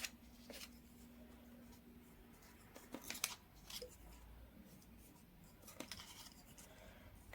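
Scissors snipping through paper during a crafting session with alcohol ink and stamps, producing a few short, soft crisp cuts at an irregular pace over a quiet room background.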